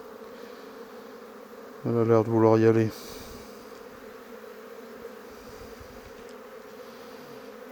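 Honeybees hum faintly and steadily around an open hive low in colony strength, a soft continuous drone beneath a short spoken remark.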